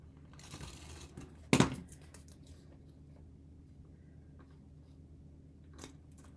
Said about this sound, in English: I'm just gonna trim it one more time in the middle